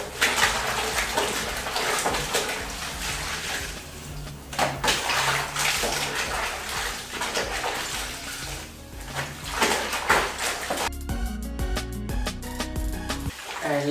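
Rags being dipped and soaked in a tub of wash water, steady splashing and sloshing with water movement throughout, fairly close, ending in a brief burst of louder clattering.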